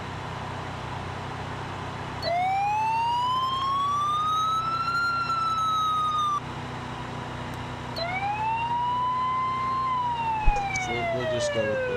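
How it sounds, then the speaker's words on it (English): Default police car siren in the BeamNG driving game on a 1998 Gavril Grand Marshal, two long rising-and-falling wails, loud and close over a low engine hum. "I'm getting sick of the siren"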